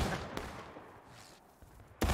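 Musket volley in the Civil War game War of Rights: a sharp broadband crack near the start, a faint distant shot, then a loud close volley bursting out at the very end after a quiet stretch.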